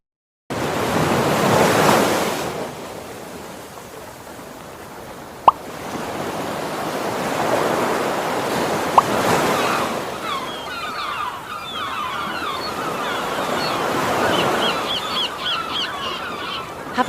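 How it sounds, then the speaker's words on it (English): Ocean waves break on a beach at sunset in a steady series of broad washing surges that swell and fade, with a soft hiss between them. "Now we're ready to hit the waves."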